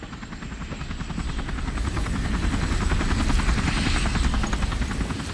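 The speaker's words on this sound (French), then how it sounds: "L'hélico est là." A helicopter arrives, its steady rotor thump and engine drone growing gradually louder and filling the scene with continuous chopping noise, no voices over it.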